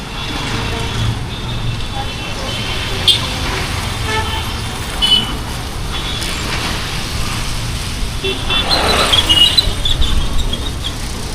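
Dense evening road traffic rumbles steadily with buses, trucks and cars, several horn toots sounding near and far throughout, with the traffic noise swelling toward the end.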